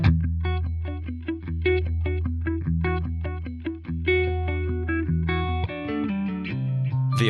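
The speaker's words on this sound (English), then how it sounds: "This is the analog phase paired with the delay." An electric guitar through a Peavey Vypyr amp plays a series of notes and chords through a swirling analog phaser with delay repeats, sounding processed and slightly distorted.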